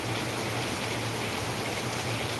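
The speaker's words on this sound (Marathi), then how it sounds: "भावनो हे खतरनाक पाऊस झालेला आहे" Heavy torrential rain pouring down in Ahilyanagar, a dense, continuous roaring wash of water with no break and no voices.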